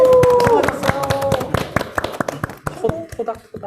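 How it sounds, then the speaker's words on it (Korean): Audience members clap at a healthy-eating program evaluation meeting, the claps scattered and uneven. A speaker talks at the start, then the clapping thins out into a few separate claps. "고생했다는 그런 의미로 박수 한번 쳐주실까요?"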